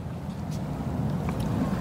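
Wind blows across a beach as a steady low rumbling buffet against the microphone, fairly loud and continuous, with no one talking.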